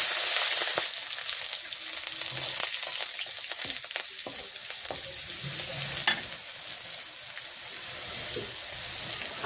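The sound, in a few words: whole garlic, bay leaf and radhuni spices frying in oil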